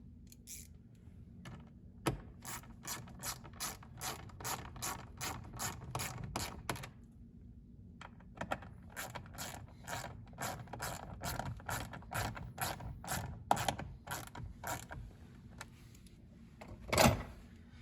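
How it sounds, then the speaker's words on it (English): Screws being driven back in on a Ford Expedition during a cabin air filter change, a close ratcheting tool clicking in quick rhythmic runs with short pauses, ending in a sharper clack, no talking. "then we will throw our screws back in."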